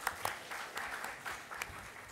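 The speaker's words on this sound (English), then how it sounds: "we can have a big round of applause for Dr. Gambhir." An audience at a medical conference lecture session applauds quietly and at a distance, a soft steady patter of clapping lasting a couple of seconds.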